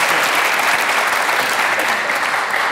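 Dense, steady applause from a studio audience on a Tunisian TV show, loud and continuous throughout with no pauses.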